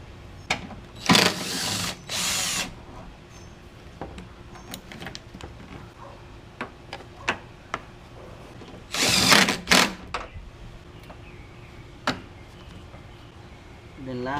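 A power tool removes a size 10 bolt during engine removal on a 2006-2011 Honda Civic, giving two short bursts early and another pair near the middle, with scattered clicks and metallic taps between them.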